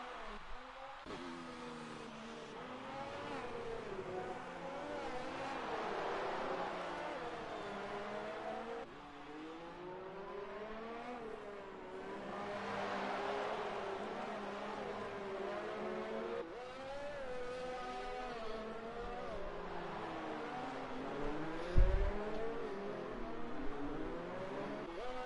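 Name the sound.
race car engines in a sim racing video game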